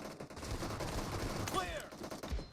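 Rapid gunfire in a team-based shooter video game on a phone, a dense fusillade of shots with a brief whistling ricochet-like sweep midway, moderately loud and close.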